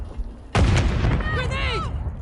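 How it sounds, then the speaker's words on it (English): A grenade explodes in Call of Duty with a sudden loud boom and a rumbling tail, followed by sharp whizzing debris or ricochet sounds close by, while voices call out over the blast. "Throwing grenade!"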